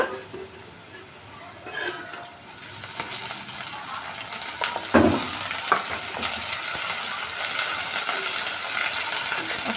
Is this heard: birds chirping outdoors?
no